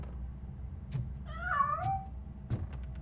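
A cat in the game RoboCop: Rogue City gives a single drawn-out, wavering meow against quiet background hum, with a few soft knocks and taps around it.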